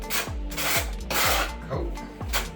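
A trowel scrapes and rasps tile adhesive across the back of a bathroom wall tile in repeated close strokes, each one a gritty rub ending with a low knock, with no voices.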